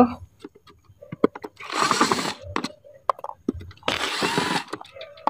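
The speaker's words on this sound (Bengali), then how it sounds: "আমরা প্রথমে মোটরটা ছেড়ে চেক দিয়ে নেব" Electric motor with a capacitor box switched on for a test run, giving two short whirring bursts about two seconds apart with brief voice sounds and clicks in between.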